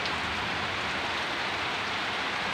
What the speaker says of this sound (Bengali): বৃষ্টির জল পড়ছে মোবাইলের উপরে